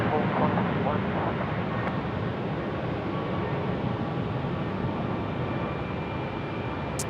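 An airliner bound for Denpasar climbs away from runway 34 at Melbourne, a steady broadband jet roar holding at constant loudness throughout, with no talk over it.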